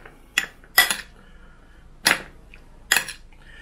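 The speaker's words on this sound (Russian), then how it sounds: "И перемешаем." Warm offal salad of tongue, braised vegetables, onion, pickled cucumber and olives being stirred in a salad bowl, giving four sharp clinks of a utensil against the dish spaced over a few seconds, close and alone.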